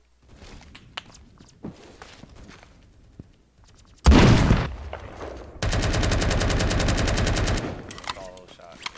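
Rapid automatic gunfire in the Roblox shooter Phantom Forces, a loud sustained burst from about four seconds in that runs for several seconds, preceded by quieter footsteps and scattered faint game sounds.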